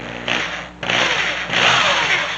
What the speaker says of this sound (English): we're going to drill this lead hole out using a 5/8 inch Forstner bit